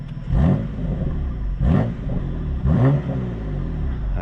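A stationary 600-horsepower BMW M4 F82 tuned by G-Power is revved three times in quick blips, each a loud, sharp rise and fall of engine pitch, with a rumbling idle between the bursts.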